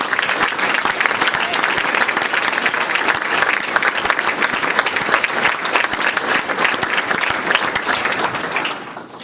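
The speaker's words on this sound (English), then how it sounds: "So give him a round of applause." A school audience at a retirement celebration for a football coach gives a sustained round of dense, even applause, loud and continuous before tapering slightly at the very end.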